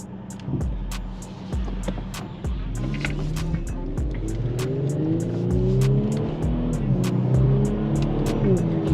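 A Kia Stinger accelerates on a road, its engine droning and rising in pitch through the gears, heard from inside the car, with rhythmic thumps from the road surface and a little background talk.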